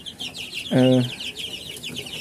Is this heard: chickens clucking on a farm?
yes